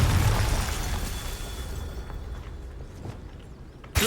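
The Confringo fire spell explodes in the Hogwarts Legacy video game, a loud boom at the start that rumbles and fades over a few seconds, followed by softer thumps and a sharp burst at the end.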